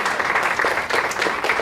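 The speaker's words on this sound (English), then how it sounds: "Yep, we can have a round of applause there." An audience at a sports law conference on sports integrity gives a short, steady round of applause, dense clapping filling the moment with no one speaking.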